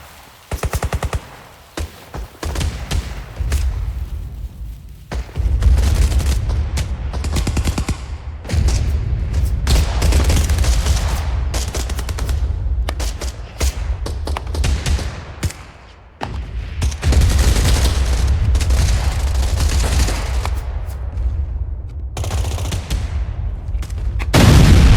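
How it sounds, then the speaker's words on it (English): Intermittent small arms fire in combat during the 1967 Vietnam War, loud bursts and volleys of rapid shots broken by brief gaps, with booming thuds mixed in over about twenty-five seconds. "enemy forces initiate intermittent small arms fire from concealed positions beyond the work area."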